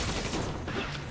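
Scattered gunfire from the zombie shooter game Resident Evil 5, a dense run of rapid shots and impacts that stays fairly quiet and steady throughout.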